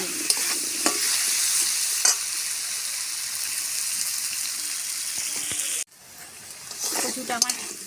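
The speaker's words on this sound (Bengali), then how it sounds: "ভালো করে কচুগুলো আমি ভেজে নেব।" Taro pieces frying in oil with turmeric and salt, a steady loud sizzle with stirring scrapes throughout; the sizzle drops off abruptly near the end, then stirring clatter resumes more quietly.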